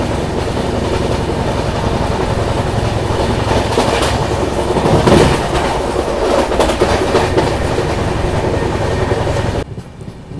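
The Amritsar–Jaynagar Humsafar passenger train rolls steadily along the rails near Panipat Junction with a loud, continuous rumble and rhythmic clatter of wheels, heard from on board.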